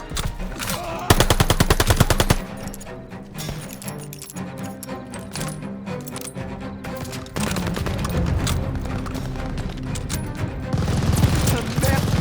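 Rapid bursts of machine gun fire in the World War II shooter Call of Duty: Vanguard, loud and close, with rattling automatic volleys, scattered single shots and battle noise throughout.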